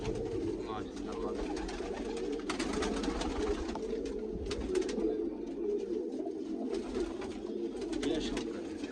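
Flying pigeons in Hasanpur coo softly and repeatedly in a low, throaty rhythm, with fluttering and faint background rustle throughout.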